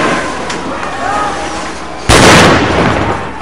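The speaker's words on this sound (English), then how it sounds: "A homemade explosive rocks a police riot truck." Street noise with distant crowd sounds during a protest in Bogota, then a homemade explosive blast at a police riot truck bursts across the scene and rumbles on for a second before fading.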